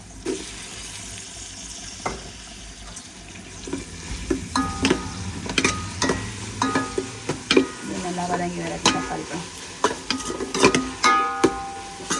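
Onions and tomatoes sauté in a pan for mutton biryani, with a spatula scraping and clattering in irregular bursts over a soft sizzle, close and fairly loud.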